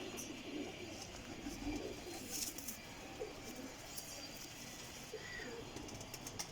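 Caged flying pigeons coo faintly in low, soft murmurs, a few brief chirps scattered over a quiet background.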